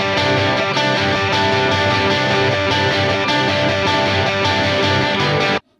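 Three electric guitar parts, one a lead line, playing together with distortion and effects, a loud, dense, continuous wall of layered chords and notes that cuts off abruptly near the end.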